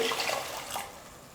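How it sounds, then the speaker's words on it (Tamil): Milk pouring into grated carrot fried in ghee for carrot halwa, a bright liquid splash and gurgle that is strongest at the start and then thins to a softer trickle, heard alone. "இப்போ இது கூடவே பால் சேர்த்துடுறேன்."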